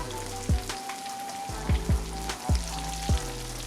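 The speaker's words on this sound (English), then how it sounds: "It always look good to see that good fish frying in that skillet" Buffalo fish frying in vegetable oil in a cast iron skillet, a steady close crackling sizzle with a few soft knocks and bumps over it, no voices.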